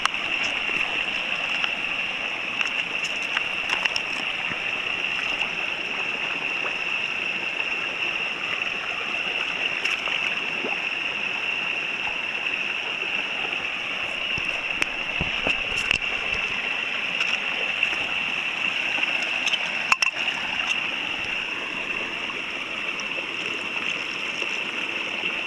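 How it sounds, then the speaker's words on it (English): Continuous steady trickle and rush of stream water, moderately faint, with a few small splashes and knocks as a water bottle is dipped and filled. "filling this water bottle up from your water source"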